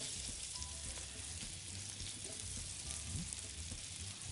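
A sole fillet sizzles skin side down in a pan, a steady dense frying hiss running throughout with small pops, close and fairly loud, no talk over it.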